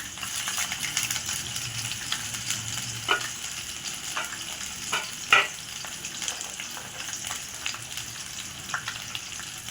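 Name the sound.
oil heating and frying in a pan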